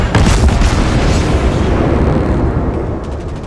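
Naval gunfire and shell impacts from a World of Warships battle, a dense run of loud booming blasts and rumbling explosions that roll on continuously and fade slightly toward the end.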